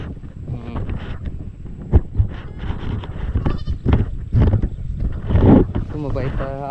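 Goats bleat repeatedly at close range, their wavering cries mixed with a person talking and some wind buffeting the microphone.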